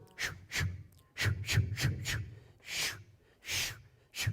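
A voice imitates a bamboo broom sweeping out tap code: a series of breathy swishes and puffs in an uneven, tapping rhythm, close and fairly loud, with short pauses between.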